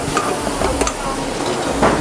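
Diced tomato and tomato puree drop into a hot pan of Cajun-spiced food, giving a steady sizzle and soft stirring scrapes with a few brief louder clatters, close and continuous without talk.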